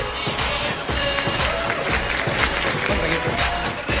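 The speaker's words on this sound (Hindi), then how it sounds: "प्लीज जोरदार ताली में करण जौहर के लिए" A large awards-show audience at Filmfare bursts into steady, loud applause for Karan Johar, with dense clapping throughout and a voice talking over it.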